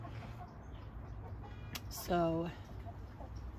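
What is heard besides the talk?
chickens clucking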